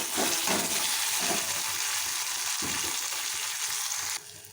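Green and dried red chillies frying in oil in a pan, a steady loud sizzle with a few sharper crackles and spits, cutting down slightly near the end.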